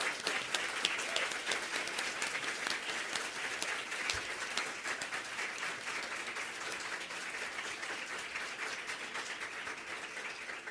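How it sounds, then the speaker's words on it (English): An audience applauds panelists at a discussion on youth engaging with orchestras, steady dense clapping from a sizable crowd lasting throughout and tapering gently toward the end. "But can you help us give a round of applause to our brave panelists?"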